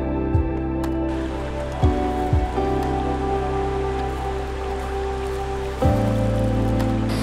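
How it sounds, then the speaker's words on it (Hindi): Namli Mera waterfall in Nathia Gali pours down in a continuous broadband rush of falling water, heard up close and steady, with a low droning hum running underneath and no talking. "सो जनाब वो पानी आ रहा है और ये गिर रहा है।"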